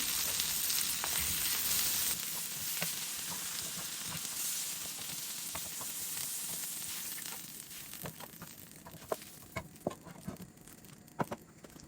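Fish frying in a pan alongside mushrooms, parsley, shallots and garlic, a steady crackling sizzle throughout, with a few sharp clinks and knocks near the end, no voices.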